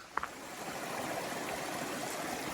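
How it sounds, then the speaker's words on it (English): A brook flowing beside a mountain trail makes a soft, steady rush of water, faint and continuous. A couple of small ticks sound at the start. "I've been climbing along the side of this brook. It's been really pleasant to listen to"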